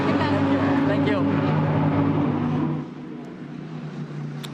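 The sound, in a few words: Lamborghini GT race car driving on the Barcelona circuit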